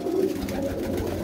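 Racing pigeons coo softly in a low, murmuring burble over a brief stretch, close by and without speech.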